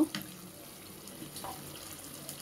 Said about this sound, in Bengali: আর একটু পানি দিয়ে দিচ্ছি